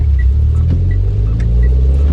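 A Mitsubishi Evo X with a reworked muffler and catalytic converter pulls hard, its loud, steady, deep exhaust rumble droning close by with no voices.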